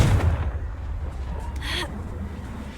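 A Confringo blasting spell going off in Hogwarts Legacy: one heavy booming blast at the start, then a rumbling decay with a brief crackle afterward.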